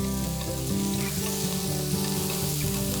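Vegetables fry in a stainless steel pan with a steady, loud sizzle, a crackling hiss throughout with faint stirring and no talk.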